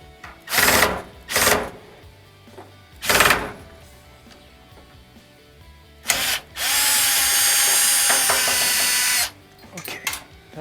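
Power drill backing Phillips head screws out of a Maytag dryer that won't heat: several short close whirring bursts, then one longer sustained whine lasting a few seconds.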